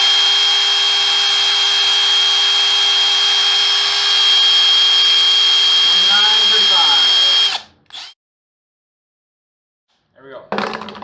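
Kobalt right-angle impact wrench spinning freely in reverse: a steady, loud high-pitched motor whine for about seven seconds that winds down to silence, followed by a brief burst of another tool starting.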